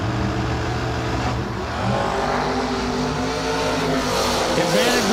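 Drag racing cars, including a dragster, launch off the starting line at a drag strip, a loud sustained engine roar with rising and shifting revs, close and continuous throughout.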